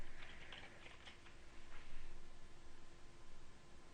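Typing on a computer keyboard, a quick close run of soft key clicks in an irregular rhythm, faint over a steady background hiss.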